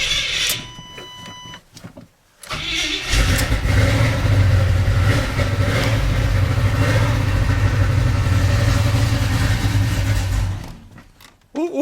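A Chevelle 350 SS V8 with freshly adjusted valves, cranked over and started, then held at a loud, steady, rumbling idle close by before it cuts out.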